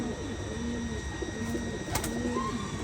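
A Ferozepuri pigeon, a female, coos in low, repeated murmuring phrases against a steady background hiss, faint and close, with no talking.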